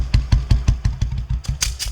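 A motorcycle engine idles with a steady, rapid putt-putt rhythm, close and even, its low thumping pulses repeating about six times a second.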